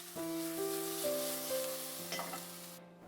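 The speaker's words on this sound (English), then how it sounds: "Add in the garlic, onion, jalapeno pepper, and tomatillos. Cook for about 5 to 7 minutes," Garlic, onion, jalapeño and tomatillos fry in avocado oil, with a soft, continuous sizzle and occasional stirring beneath faint steady tones.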